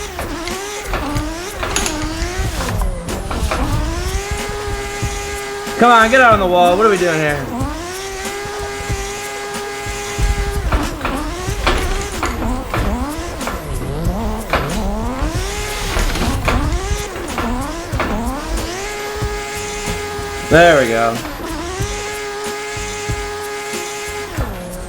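Pro drift car engine in the Assetto Corsa racing game, rising and falling through high revs with sweeping pitch changes, gear shifts and bursts of tire squeal, loud and continuous while someone occasionally talks over it.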